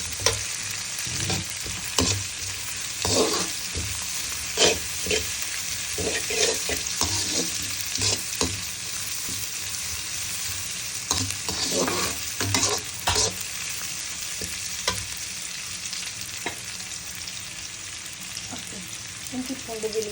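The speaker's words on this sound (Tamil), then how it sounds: "அதுக்கப்புறம் இஞ்சி பூண்டு விழுது போடணும்" Ginger-garlic paste frying with dried red chillies in a pan for a black pepper chicken fry, a continuous sizzle with repeated scraping stirs from a spatula close up, no speech.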